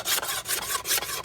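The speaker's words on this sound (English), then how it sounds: "I can get some scrapings out of this edge, this 90-degree spine" The 90-degree spine of a stainless Mora Companion knife scrapes in quick repeated strokes, a close, bright rasping rhythm with no talk.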